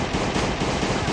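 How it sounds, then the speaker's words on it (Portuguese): Rapid gunfire from a weapon in a zombie survival game set in a swamp, a dense, continuous burst of shots filling the whole moment with no talk. "já vou dar uns tiros"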